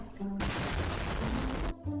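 Dense, continuous burst of mine explosions in the Roblox game Cross the Minefield, a loud wall of booms filling about a second and a half, with game sounds before and after.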